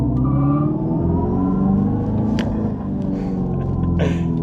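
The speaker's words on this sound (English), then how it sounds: "You heard the little backfire and the wheel spin a little bit." Electric Dodge Charger in track mode with a synthesized V8-style rumble accelerating hard, a brief simulated backfire crackle and a short burst of wheel spin, loud and close with no talking.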